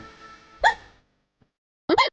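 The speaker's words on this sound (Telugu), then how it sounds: "ఎక్కిళ్ళు ఎక్కిళ్ళు, మంచినీళ్ళు" A person with hiccups in a Telugu TV serial scene lets out two sharp, throaty hiccup bursts about a second apart, close and fairly loud, with a quiet pause between them.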